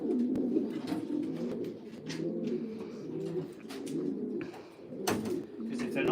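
Racing pigeons coo in low, rolling, repeated calls from close by while being basketed for a race, with handling bumps and rustles breaking in now and then.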